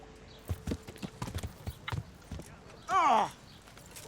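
A horse in Kingdom Come Deliverance clip-clops with a few scattered hoof strikes, then lets out one loud whinny near the end, with faint speech underneath.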